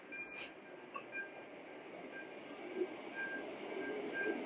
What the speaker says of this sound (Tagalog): Ayan na yung train. Maliit man yung train.